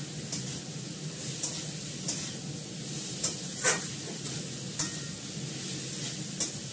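Papaya and potato pieces fry in a pan with green chilli, giving a steady low sizzle broken by a few sharp scraping stirs, close and moderately loud with no talking.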